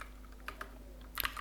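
Code typed on a computer keyboard: a few scattered quiet key clicks, then a quick cluster of taps near the end, faint against a low steady hum.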